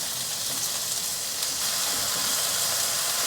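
King oyster mushrooms fry in hot oil in a pan over low heat, giving a bright, continuous sizzle that holds steady and close with no voices.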